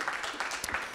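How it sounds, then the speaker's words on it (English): A VegfestUK Brighton panel audience applauding a speaker, a brief burst of scattered hand claps at moderate level. "A big round of applause, please."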